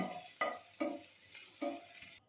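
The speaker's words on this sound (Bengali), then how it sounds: "আমি একটু হালকা করে বাটারে ভেজে নিচ্ছি" Food being lightly fried in butter in a pan, a soft sizzle broken by several distinct stirring scrapes at an uneven rhythm, close and fairly quiet, ending abruptly.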